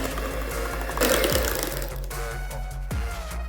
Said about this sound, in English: So we'll just beat this for 2 minutes and that will be fine.